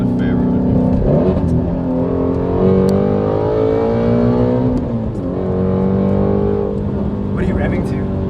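Ford Shelby GT350 driving with its exhaust gurgling and burbling over a loud, steady engine drone that swells and eases slightly, with voices talking in the car throughout.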